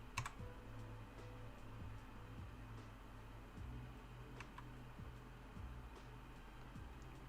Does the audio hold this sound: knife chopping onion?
no